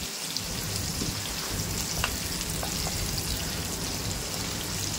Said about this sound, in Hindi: अब डाल देंगे प्याज। अब इसको गोल्डन ब्राउन होने देते हैं प्याज को हम अच्छे से।